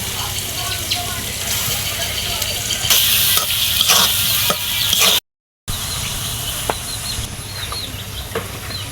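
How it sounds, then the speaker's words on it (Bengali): Small shrimp frying in hot oil with turmeric, chili, coriander powder and salt, a steady close sizzle with stirring scrapes and a few louder bursts. "তেল ছেড়ে দিয়েছে এখন আমি মাছ দিয়ে দিব"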